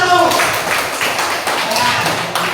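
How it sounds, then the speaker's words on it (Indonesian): A group claps together in a dense, even burst of applause, with voices murmuring underneath the clatter of hands. "Tepuk tangan untuk kelompok 1."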